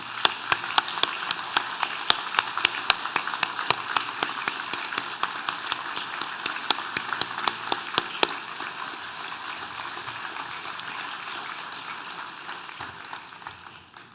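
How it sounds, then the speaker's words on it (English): Sustained applause from a large audience at an Open University degree ceremony in Torquay, dense, even clapping that carries on steadily before slowly tapering off at the end. "let's give them a massive round of applause"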